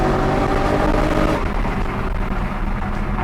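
BMW M3 V8 with a manual gearbox, a loud deep engine rumble that swells and then eases into a rougher lower growl partway through, heard alone and close.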